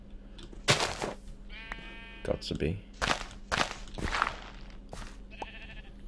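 Sheep in the Minecraft video game bleat several times in short wavering calls, mixed with thumping game sounds and someone talking over them.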